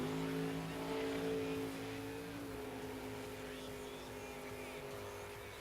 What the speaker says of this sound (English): The Camaro up on the big end, pulls away hard.